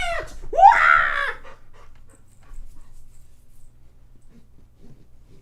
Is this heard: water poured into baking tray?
no